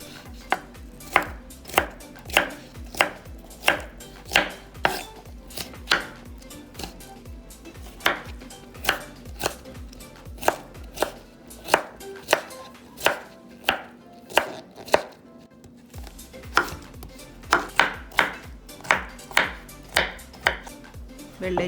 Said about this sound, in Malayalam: ആദ്യമായി വെള്ളരിക്ക മുറിക്കുന്നുണ്ട്.